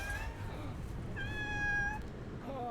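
Cats meow in the Shadow of War video game, two or three drawn-out, tonal mews, the longest in the middle, heard over a low game background rumble with no talking.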